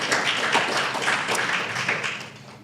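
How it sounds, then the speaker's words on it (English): An audience at a cosplay and prop-making gathering applauds, a steady wash of clapping from many hands that holds evenly and then begins to fade. "Let's give him a round of applause"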